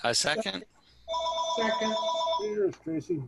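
Telephone rings during a town historical commission meeting, a steady electronic ringing tone lasting about a second and a half while people talk around it.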